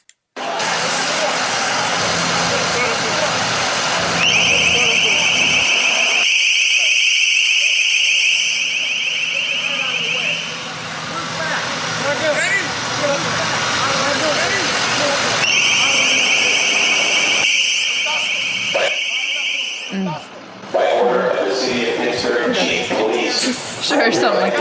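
LRAD acoustic device at the 2009 G20 summit: a piercing, harsh warbling tone blares in long pulsed bursts over crowd noise and shouting, very loud and outdoors, with people talking and yelling throughout.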